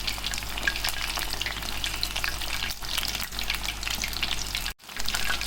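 Chicken pakoras deep-frying in a small kadhai, a loud, dense, continuous crackling sizzle of hot oil, close up and uninterrupted apart from a brief dropout near the end.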